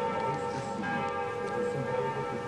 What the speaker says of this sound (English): The best part was the bells of Notre Dame.